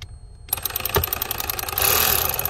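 An electric ratchet drives a screw on the blend door actuator motor of a 2012 Jeep Grand Cherokee. After a short silence it gives a close, buzzing motor whir with fast pulsing clicks, growing louder near the end.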